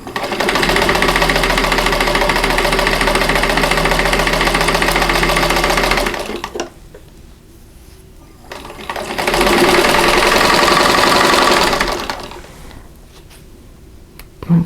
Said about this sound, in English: I'm going to stitch right on that